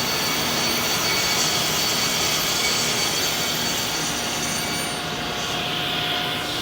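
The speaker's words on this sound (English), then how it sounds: "I make my trim cut." Striebig vertical panel saw making a trim cut through a clamped board, a steady loud broadband whine that holds at one level for the whole stretch and eases slightly near the end.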